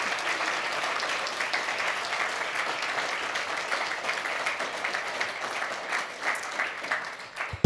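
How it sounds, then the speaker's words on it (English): A church congregation claps in sustained applause, a full, even rattle of many hands with small swells, closing with one sharper clap. "can we just give them a round of applause"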